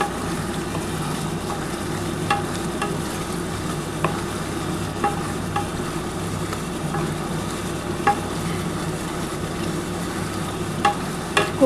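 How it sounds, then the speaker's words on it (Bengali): Chicken sautés on a tawa under a continuous, moderate sizzle, broken by occasional sharp scrapes and clicks of a spatula stirring the pieces, with no talking. "খুব ভালোভাবে এটা কষাতে হবে।"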